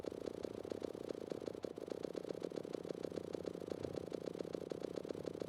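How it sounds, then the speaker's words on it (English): Video game factory machinery chugs steadily like an idling two-stroke motor, a faint, even, rhythmic pulsing that runs without a break. "It sounds kind of like an idling 2-cycle motor."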